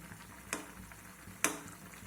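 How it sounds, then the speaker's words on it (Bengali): Cauliflower, potato and soybean curry stirred in a pot with a spoon, two distinct scraping clinks about a second apart over a faint, steady simmering hiss, fairly quiet and with no voices. "তো এখন একটু নাড়াচাড়া করে নেব"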